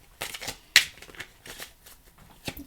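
Tarot or Lenormand cards being shuffled by hand, with a series of quick papery riffles and soft flutters, close and moderately loud, and one sharper snap partway through.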